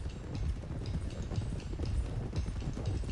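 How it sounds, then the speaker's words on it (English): Horses trot steadily in Red Dead Redemption 2 while being driven toward Clemens Cove, their hooves making a dense, continuous clip-clop close by over a rumbling low background, with no voices. "let's get these horses to Clemens Cove quick before we run into any more trouble"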